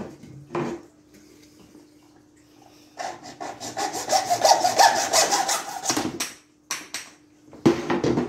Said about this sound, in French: maintenant que ma petite démarcation est faite, je vais pouvoir couper mon tube